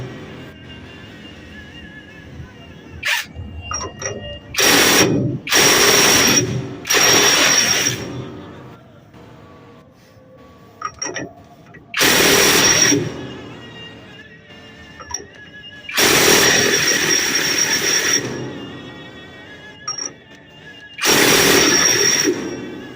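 Bursts of a power impact tool tighten a large bolt on a motorcycle's final drive after a roadside seal replacement, several loud rattling runs separated by pauses with brief clinks and faint talk.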